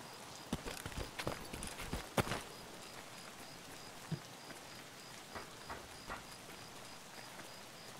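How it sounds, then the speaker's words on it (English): Rain patters steadily on a roof inside a building in the Escape From Tarkov video game, a soft continuous hiss broken by scattered louder drips and taps. "Listen to the sound effects. The rain on the roof."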